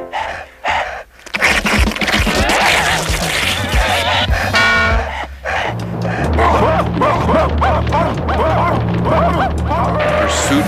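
Giant prehistoric cartoon puppies bark and yip in a chase, with repeated loud woofs and gasping yelps layered over busy music and effects throughout.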